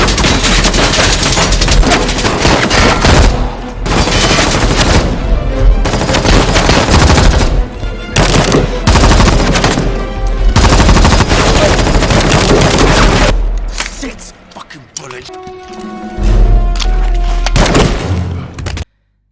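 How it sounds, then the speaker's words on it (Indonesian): A long, loud shootout from an action film about a mafia boss's henchman, with dense bursts of rapid gunfire and booms repeating for most of the stretch, then a brief lull before more shots. "Setelah tembak-tembakan yang panjang, pada akhirnya Walker mampu menghabisi satu tangan kanan bos mafia tersebut."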